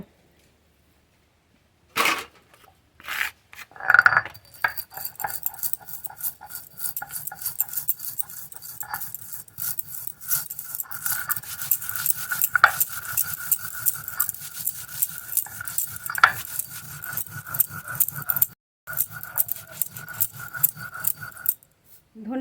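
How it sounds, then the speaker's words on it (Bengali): Coriander seeds ground by hand on a flat grinding stone in a home kitchen while making mango oil pickle, a steady rhythmic scraping and rubbing of stone on stone repeating for many seconds, close and moderately loud. "এবার ধনে বেটে নেবো"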